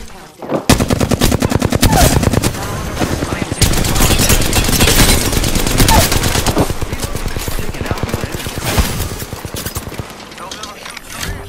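Rapid automatic gunfire in Apex Legends, long bursts of sharp rattling shots fired close and loud, with short pauses between strings of fire and a brief quiet at the start.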